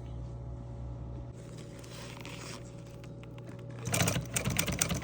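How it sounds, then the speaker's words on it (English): A sewing machine stitches pleated upholstery for a 1963 Ford Falcon seat down to welt cord, a steady low motor hum that gives way to louder rapid rattling stitching near the end. "This is the top pleated section sewing down to the welt cord."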